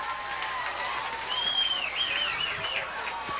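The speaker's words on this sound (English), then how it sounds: "Listen to this crowd." Crowd at a packed, standing-room-only high school football game between Arab and Albertville in 2003, a sustained roar of cheering and clapping with whistles and shrill yells rising above it, heard from the stands.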